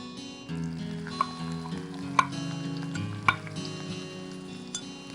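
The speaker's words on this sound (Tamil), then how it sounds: "இப்போ இது பொரியும் போது இதோடவே வெங்காயம் சேர்த்துக்கலாம்." Cinnamon and cloves frying in oil for a white kurma, with onion added, make a steady sizzle under a faint background hum, and a few sharp metallic taps of a spoon against the pan stand out.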